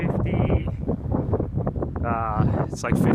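Gusty wind buffets the microphone with a constant low roar while people talk over it outdoors in the Moab desert near Arches.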